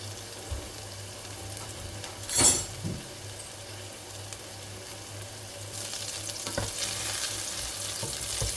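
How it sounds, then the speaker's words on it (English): Homemade meatballs brown in a frying pan with a steady low sizzle, a clink near the start and the frying growing slightly louder toward the end. "Just browning the meatballs."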